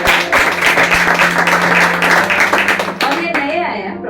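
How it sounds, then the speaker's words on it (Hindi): Church congregation clapping hands together, loud and close, a dense burst of applause that thins toward the end as a voice begins speaking over it. "जोर से इनके लिए ताली बजाए।"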